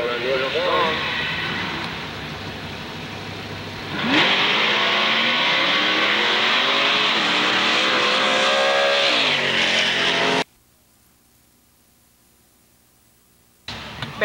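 A Studebaker Champ race car fitted with a big Indy-style tower roars loudly close by, revving hard and rising in pitch, then cuts off abruptly to near silence before a brief burst of noise returns at the end.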